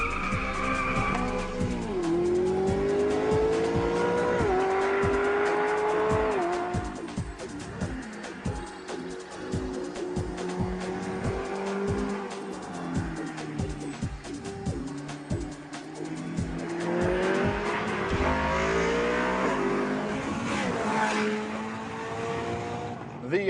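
Ferrari California with a 453 horsepower V8 driven hard, engine rising and falling through repeated gear changes while tires squeal and skid, loud and close throughout, with brief talk over it.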